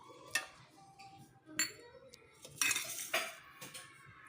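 Ice cubes dropped into a mixer jar already holding cut mango pieces: a few sharp, close clinks and clatters spaced apart, against a quiet background.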